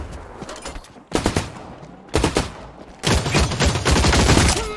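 Rapid bursts of gunfire in The Cycle: Frontier, a multiplayer shooter, come in three loud volleys with brief gaps between them, the last burst being the longest and densest. No one speaks.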